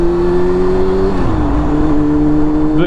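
A motorcycle engine drones loudly and steadily up close, its pitch dipping briefly partway through before holding again.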